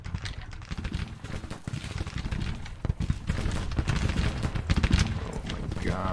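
Musket volleys in a Grand Tactician Civil War battle between massed Confederate and Union armies, dense crackling fire popping in rapid overlapping bursts, building louder toward the end.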